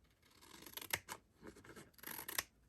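Scissors snip through a cardstock flap on a paper-crafted drawer storage box, giving a few close, crisp cutting bursts with pauses between them and no talking.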